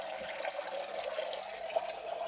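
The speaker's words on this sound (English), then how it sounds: "get it coming back out of the waterfall" Water spilling out of a small waterfall into a mini garden pond holding koi and fancy goldfish, a steady close splashing trickle with a faint uneven patter and no voices.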